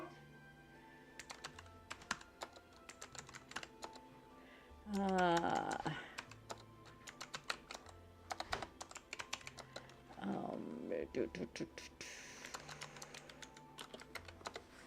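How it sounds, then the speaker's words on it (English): Rapid, close clicking of a computer keyboard while someone types during a Vintage Story game session, continuing in irregular bursts with two short stretches of voice breaking in. "I know what I'm typing."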